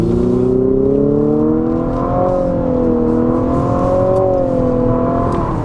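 A 2022 Infiniti QX55's engine revs with a gurgly exhaust note, a loud, sustained, droning hum whose pitch rises and falls gently, heard up close with no talking over it.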